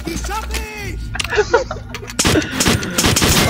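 Rapid gunfire and explosions from the World at War video game, bursts of shots overlapping with excited player voices talking throughout.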